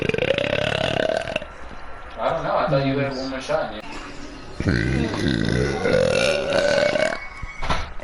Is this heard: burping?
yes